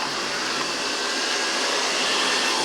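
A Grundig VCR 2330 robot vacuum cleaner runs with a steady, close, loud whooshing suction hiss and motor whir, unbroken and with no talking.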